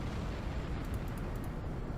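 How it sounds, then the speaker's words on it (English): In the Star Trek Online space game, a deep rumbling explosion roars steadily throughout with dense low-end boom and crackle, loud and close, plus faint high ticking tones over it; no voices. "Too close to the explosion."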